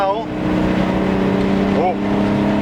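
A VW Golf VR6 engine pulls steadily in third gear from inside the car, a constant droning hum with faint tonal whines above it.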